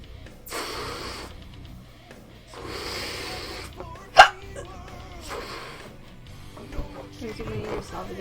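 A woman gives a single sharp, abrupt hiccup mid-clip, surrounded by soft breathy sounds and quiet talking.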